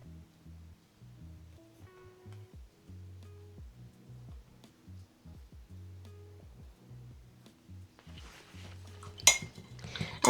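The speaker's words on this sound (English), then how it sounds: "And then rinse off your brush." A paintbrush is swished and tapped against the sides of a water cup in quick clinking bursts, rinsing acrylic paint, with a sharper splash near the end; close and fairly quiet, no talking.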